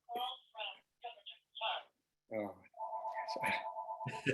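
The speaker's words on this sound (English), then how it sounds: "There goes the phone. Ignore it." An indoor telephone rings with a steady electronic warble partway through a talk on barbecue, continuing for over a second while a person keeps speaking over it.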